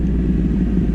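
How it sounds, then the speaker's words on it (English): A 2009 Yamaha R1 motorcycle with an unbaffled Toce exhaust and no dB killer produces a loud, close, continuous low engine rumble. "it is hard for me to keep my train of thought with a bike this loud"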